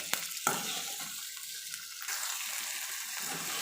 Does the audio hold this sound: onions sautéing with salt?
yes